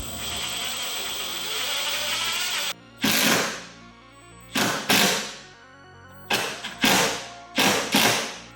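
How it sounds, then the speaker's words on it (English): A power driver sends screws into a wooden mounting board for a hose reel, several separate whirring bursts with short pauses between them, close and clear, after a steady mechanical hum at the start. "For the first few screws, drive them in a little slower while keeping an eye on your level."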